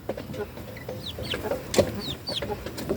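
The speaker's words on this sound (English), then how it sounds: "These are also my 3 months old chicks." Three-month-old chicks chirping nearby: short, high, rising peeps scattered irregularly among soft clucks, fairly close and moderately quiet over light background noise.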